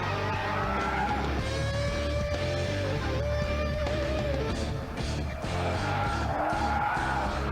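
A BMW 330i sliding sideways on a racetrack, its tyres squealing in long wavering tones over a loud, steady engine drone, with the pitch sweeping as the car swings one way and then the other.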